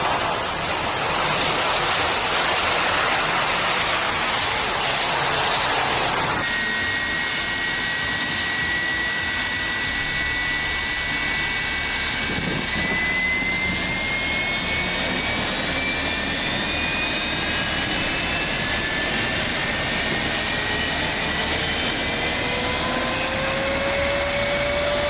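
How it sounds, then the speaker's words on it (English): Airbus A330 jet aborting takeoff at Ninoy Aquino International Airport in the Philippines after a technical fault, a loud roaring engine wash that changes character partway, with rising and falling whining turbine tones over a constant rush. "Watch this Airbus A330 abort takeoff at Ninoy Aquino International Airport in the Philippines"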